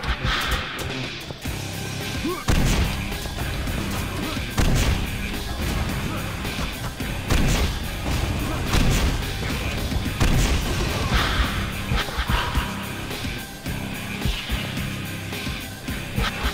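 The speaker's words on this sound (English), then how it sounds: "And another volley of shots." Repeated gunshots and booming blasts in the first-person shooter Painkiller Black, a dense, loud stretch of game combat with sharp reports scattered across it and continuous noise between.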